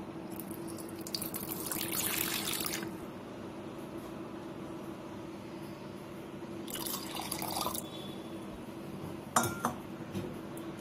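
Water and curd splash and pour in short bursts into a jar for spiced buttermilk, followed by a few clinks of utensils against glass over a low steady hum.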